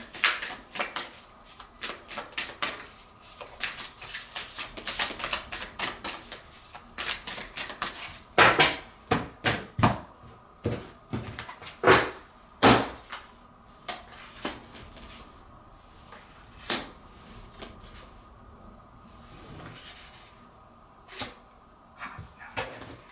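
Oracle cards from an animal spirit deck shuffled by hand in bursts of crisp riffling slaps and flicks, with a few louder card snaps midway and quieter, sparser handling toward the end; no talking.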